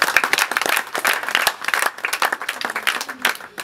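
A church congregation claps together in acclaim of Jesus Christ, a dense, steady patter of many hands filling the room with sharp, overlapping slaps and no pause.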